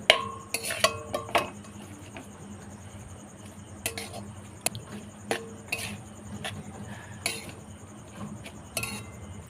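A spoon or spatula scrapes and clinks against a wok while coconut and jaggery are stirred, irregular metallic taps and knocks in quick clusters, close and fairly clear, with a faint background hum.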